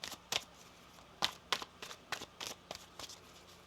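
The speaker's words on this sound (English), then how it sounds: "One more shuffle here." Tarot cards being shuffled in a quiet room, a string of soft, short riffling bursts with uneven gaps, close and faint, with no voices.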